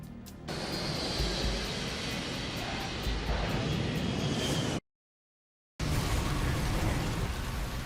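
Simulated Airbus A320 crash landing: a loud, steady roar of jet engine and rushing air that holds for several seconds, breaks off into a brief silence, then resumes just as heavily.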